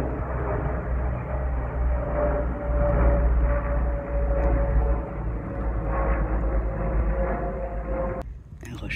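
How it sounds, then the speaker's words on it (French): A cargo plane coming from the north drones overhead in a steady, broad, muffled rumble that swells slightly and then holds, with a voice talking over it now and then. "Ça peut être un avion de cargaison."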